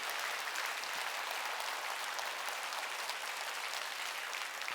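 Steady, dense applause from a church congregation during a Wednesday worship service, sustained and even at full volume for the whole stretch with no voices standing out.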